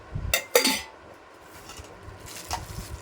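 A metal cooking pot (dekchi) and its lid being handled: two quick, close metallic clanks near the start, then quieter rattling and a faint clink a little later.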